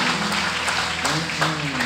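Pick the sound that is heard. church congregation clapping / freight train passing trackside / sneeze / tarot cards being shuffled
church congregation clapping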